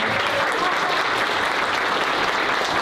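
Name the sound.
audience applause for event organizer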